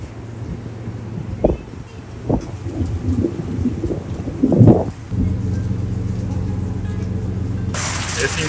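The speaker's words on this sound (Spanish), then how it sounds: "un fuerte chaparrón aquí en el río Ucayali" A heavy tropical downpour drums steadily on the Ucayali river in the Peruvian Amazon, heard from aboard a riverboat, with a deep thunder rumble swelling midway and faint voices in the background.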